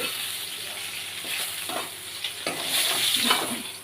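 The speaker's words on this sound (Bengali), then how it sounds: "আমি এই মাছ ভাজছি এই মাছ ভাজাটা তুলে নিই" Steady hiss of fish frying in hot oil, with scraping stirs and a brighter sizzle swelling near the end; no voices.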